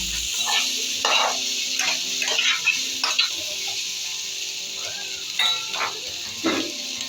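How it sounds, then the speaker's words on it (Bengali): Mixed vegetable curry with cabbage is stirred in a pan over a low gas flame, with soft scraping strokes coming in irregular bursts over a gentle steady sizzle, near and fairly quiet. "এবার এটা নাড়াচাড়া করে নেব আর গ্যাসের ফ্লেমটা কিন্তু আমি লো করে রেখেছি"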